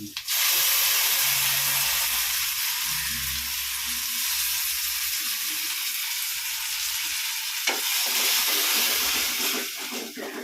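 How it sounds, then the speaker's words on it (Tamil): Tomatoes tipped into hot oil with curry leaves for a Trichy-style garlic kuzhambu give a loud, steady, close sizzle and hiss that carries on without break, with a small knock partway through. "நல்லா வதங்கிட்டு தக்காளியை ஊற்றிடலாம் கொஞ்சம் வதங்கட்டும்"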